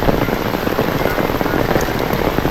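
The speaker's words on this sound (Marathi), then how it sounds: "पाऊस बघा" Steady, dense unseasonal rain pattering on a surface, loud and close, with no voices.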